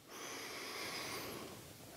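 A single soft, drawn-out inhalation during a qigong exercise, close and quiet, swelling and then fading over about two seconds with no talking.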